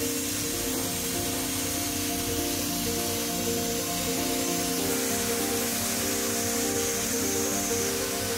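Steady loud hissing and whooshing of a vacuum pulling heated plastic sheet down over a mold for an RC car body, a continuous broadband rush with a low hum beneath, no talk.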